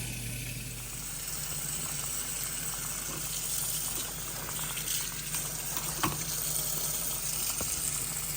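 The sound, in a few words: greens being washed in salt water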